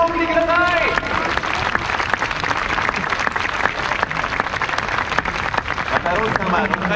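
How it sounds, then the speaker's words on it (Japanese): A stadium crowd in the right-field stands applauds at a 1998 Yokohama BayStars reunion batting showdown, with loud dense clapping throughout and an announcer's voice briefly at the start and end. "大きな拍手を送ってください"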